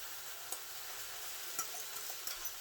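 Couscous and tomato sautéing in a pan, with a steady soft sizzle and a few faint clinks of stirring at irregular moments, no voices.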